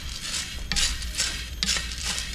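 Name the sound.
stirring coffee beans while roasting them in a pan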